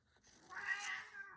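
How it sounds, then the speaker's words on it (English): A single soft, drawn-out cat meow, quiet and close, as the cat calls at its own reflection in a mirror indoors. "He's looking at himself in the mirror, meowing."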